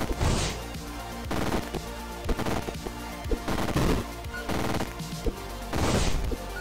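Rapid bursts of weapon fire in the robot shooter game Neurovoider from a fast-overheating gun, short loud volleys repeating with brief gaps over a dense game soundtrack.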